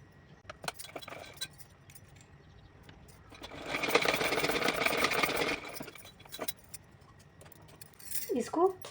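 A sewing machine stitches folded fabric for a small Kanha ji outfit in a short whirring run of about two seconds, framed by quiet clinks and handling noises.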